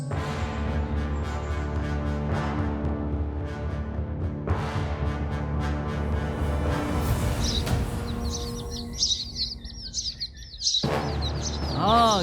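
Birds chirp in a Tamil kids' cartoon, bright twittering calls rising over a loud musical score in the second half, with a quick burst of chirps near the end.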